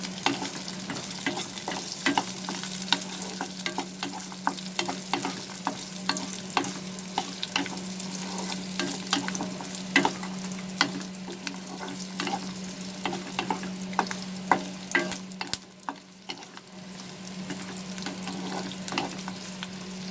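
Ginger and garlic pieces fry in a pan for a shahi paneer dish, giving a steady sizzle with frequent sharp scrapes and clicks of stirring throughout. No voices are heard.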